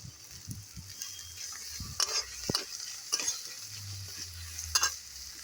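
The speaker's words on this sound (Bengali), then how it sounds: "এবার দিয়ে দেবো টমেটো কুচি" Chopped tomatoes fry in a pan for a snail curry, a soft, quiet sizzle punctuated by a few sharp scraping stirs of the spatula.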